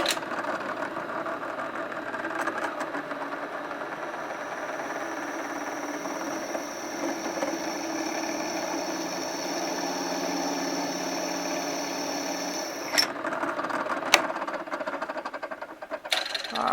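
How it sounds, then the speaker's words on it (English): A power drill running steadily with a freshly sharpened bit, drilling at low speed: a continuous mid-pitched motor whine with a faint grinding edge, sustained for most of the stretch and stopping near the end, with no talk. "I got the drill down pretty slow, and let me turn it on"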